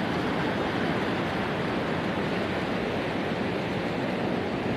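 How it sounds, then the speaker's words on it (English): Huge Atlantic Ocean waves roll in on the coast at Guéthary, a steady, dense roar of surf and wash that fills the whole stretch without a break, loud and continuous. "Huge waves."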